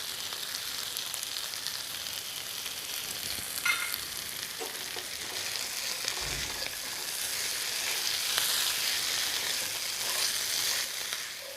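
Spicy chicken fry sizzling and crackling in a pan with coriander added, a steady broadband hiss with occasional stirring clinks, growing slightly louder toward the end.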